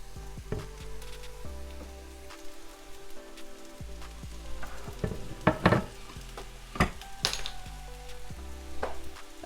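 Chicken stir fry sizzling softly in a pan, a faint crackle broken by scattered clatters and knocks of utensils and ingredients dropping in, with a low hum underneath and no speech.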